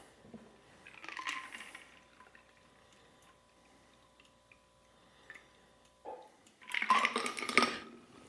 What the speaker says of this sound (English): We're going to double strain once again.